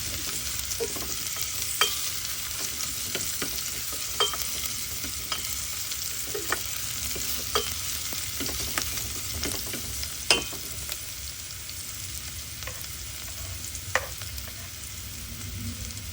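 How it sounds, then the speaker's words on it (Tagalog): Garlic frying in a pan after ginger, stirred steadily with a utensil that scrapes and taps now and then over a constant soft sizzle, with no voices. "halu-haluin lang natin ang wangba para hindi siya manikit."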